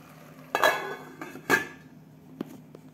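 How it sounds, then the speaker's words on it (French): Ground beef patties are flipped in a pan, giving two sharp metallic clanks of utensil against pan and then a lighter clink, over a quiet background. "là je viens de retourner les steaks hachés un petit peu"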